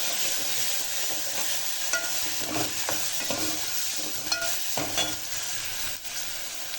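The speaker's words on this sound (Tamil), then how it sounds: "தக்காளி நல்லா வதங்கட்டும்" Tomatoes sautéing in a pan give a constant close sizzle, broken by a series of spoon scrapes and light clinks as they are stirred.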